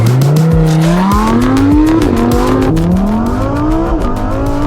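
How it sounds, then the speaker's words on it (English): A Lamborghini Huracan launches hard on a track, its engine note climbing sharply through the gears with brief dips at each shift and loud, close high-revving sound throughout. "It's time to see what the Lamborghini Huracan can do"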